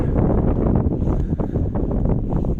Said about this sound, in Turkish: Hafif rüzgarımız var.